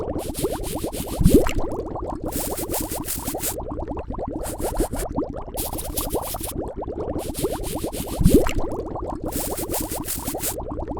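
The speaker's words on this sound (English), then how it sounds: "The bubbles could be lowered a little bit." Synthetic boiling bubbles designed for a mobile video game pop and gurgle in a rapid, looping burble, with a louder bubble burst recurring every few seconds and no voices.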